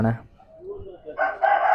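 A short voice is heard first, then a rooster lets out a loud crow near the end, at an agricultural fair among crossbred country chicken breeds.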